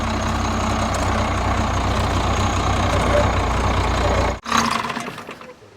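An old, rotting Cummins diesel plow truck runs with a loud, steady low roar, then the sound cuts out sharply and returns as the fan clutch engages, fading again near the end.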